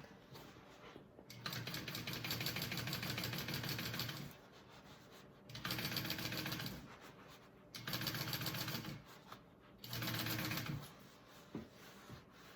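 Top stitching on a bag lining, the sewing machine runs in four long, steady bursts separated by brief pauses, with light handling clicks between. It is close and alone, with no talk.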